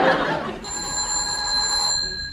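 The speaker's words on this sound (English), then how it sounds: "Answer the phone, Anthony." In a radio comedy, an old-fashioned telephone bell rings with a bright, metallic, sustained tone that starts after a short burst of laughter and muffled voices.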